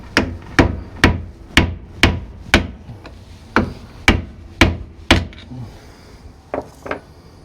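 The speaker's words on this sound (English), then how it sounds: "maybe a hammer and crack this sucker open" Repeated hard hammer blows strike something solid while prying off a Onewheel tire, about ten sharp impacts in a steady rhythm, then a pause and a couple of lighter knocks.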